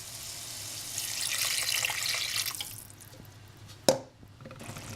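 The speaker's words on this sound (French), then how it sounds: "Une fois que les grains de riz sont bien enrobés, versez le bouillon." Broth poured into risotto rice in a pan makes a steady liquid splashing for a few seconds that then fades, followed by a single sharp clink, all quiet and close.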